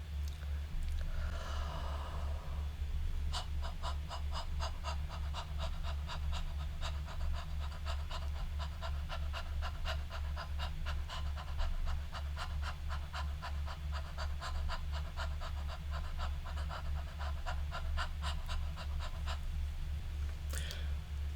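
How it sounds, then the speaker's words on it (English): A singing breathing exercise of light, rapid panting runs as a long, quick, even train of short breaths over a steady low hum, close and alone without talk. "Do this light, rapid panting for 10 to 15 seconds and repeat it for 3 times"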